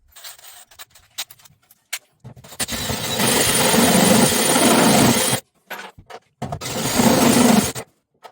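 A power drill whirs in two sustained bursts, grinding through a Citroen Saxo VTS car floor up close, separated by short clicks and handling noises.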